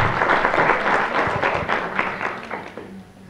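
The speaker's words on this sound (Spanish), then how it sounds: "Un aplauso, por favor." Audience applause at a Latin American internet governance conference session, a dense steady patter of many hands clapping close by that fades slightly toward the end.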